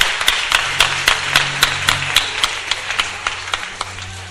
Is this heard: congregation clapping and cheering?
yes